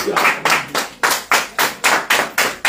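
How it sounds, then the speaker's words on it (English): A church congregation claps in a steady, even rhythm, about nine sharp, close hand claps spaced evenly, with no talking. "clap your hands together"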